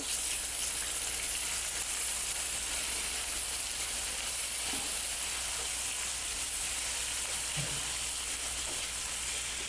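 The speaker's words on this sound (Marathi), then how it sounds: "इथे मी एक मोठा कांदा घेतला आहे कांदा परतून घ्यायचा आहे लालसर होईपर्यंत" A large onion sautéing in oil in a pan until reddish for restaurant-style bhindi masala, a steady, loud, even sizzle throughout with faint stirring, no talk.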